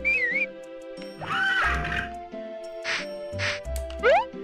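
A horse neighs in the video game Harvest Moon: Back to Nature. Synthesized whinnies and whistle-like rising tones sound over a looping game music backdrop, with several distinct calls in a few seconds and no talking.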